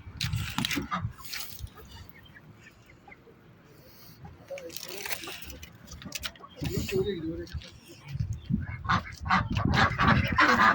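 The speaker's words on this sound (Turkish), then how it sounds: "Burada İngiliz ırkı tavuklarımız var." Chickens of an English breed cluck and honk in a busy coop, several birds calling close by while someone talks over them.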